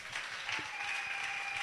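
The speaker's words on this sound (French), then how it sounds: "Applaudissons pour vous-même." Steady applause from a church congregation during a French-language sermon on baptism of the Holy Spirit, a continuous dense patter of many hands that holds at an even level throughout.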